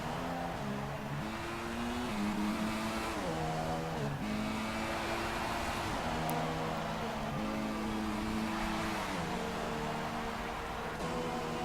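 A Formula 1 car in the F1 2016 racing game brakes hard and then accelerates again, its engine note stepping down and climbing back up through several gear changes. The engine drones steadily and loudly throughout, with no talk over it.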